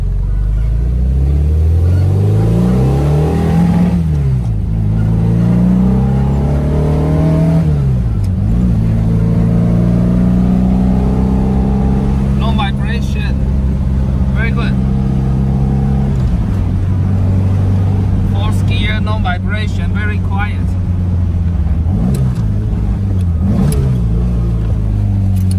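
A classic Porsche 911 engine drives through repeated gear changes, revving up and dropping at each shift, loud and continuous with faint clicks of the new shifter and no talk.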